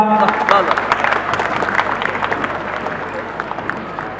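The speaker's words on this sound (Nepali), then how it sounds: "तपाईँहरूको अगाडि विद्यार्थीहरूको प्रस्तुति कृपया जोरदार तालीले यहाँको प्रोत्साहन गरिदिनु होला।" An audience claps for a students' tableau presentation at a school event, a lively mass of applause that gradually thins, with voices mixed in.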